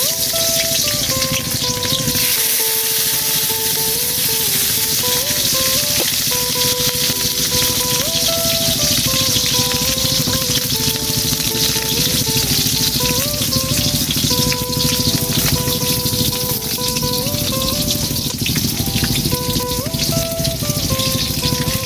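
Chili and onion fry in a wok as the base for a boal fish curry, giving a steady, rain-like sizzle that runs the whole time under loud music.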